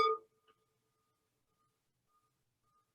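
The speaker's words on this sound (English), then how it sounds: "Listen for the end of the sound of the bell." A single meditation bell struck once during a guided mindfulness session: a sharp, bright tone that fades within a fraction of a second into a very faint lingering ring, then near silence.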